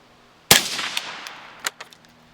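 A single sharp 5.56 rifle shot fired through a JK Armament suppressor outdoors, a loud crack with a quick decaying tail followed by a few fainter echoes or impacts off rocks, no talking.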